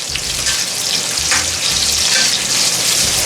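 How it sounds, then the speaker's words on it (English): A whole chopped bell pepper fries in a hot pan, giving a loud, continuous sizzle and crackle with occasional stirring scrapes, close up and without any voices. "This is bell pepper. Let's start frying it."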